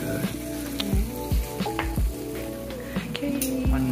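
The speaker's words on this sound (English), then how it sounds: "I can hear the potatoes sizzling." Roast potatoes fresh out of the oven sizzle in a home kitchen while cooking a Sunday roast, a steady close crackling hiss with repeated scraping and stirring clinks on top.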